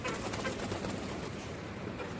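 A pigeon coos with a soft, low, steady call against a dense background hiss, with no voices.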